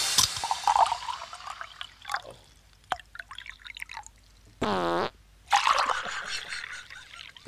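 A recorded fart into a microphone plays as a soundbite, a short buzzy burst of about half a second that stands apart from the surrounding clatter and noise.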